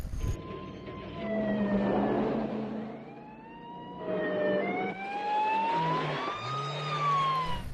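Police car siren wailing during a film car chase, its rising and falling tone sweeping repeatedly over engine and road noise, loud and close throughout.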